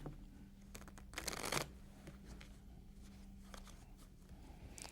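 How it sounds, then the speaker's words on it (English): A deck of playing cards is shuffled during a magic trick demonstration, a quick, crisp riffle burst standing out from a quiet room with soft handling sounds before and after. "We can shuffle these cards."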